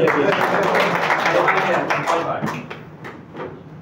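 An audience claps loudly at a Bengali health talk, with dense, sustained applause that gradually thins and fades toward the end.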